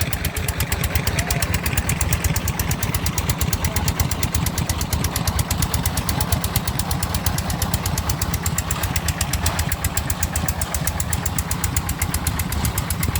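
A loud motorized water well drilling rig runs steadily, its engine thumping in a fast, regular rhythm without letup, close by.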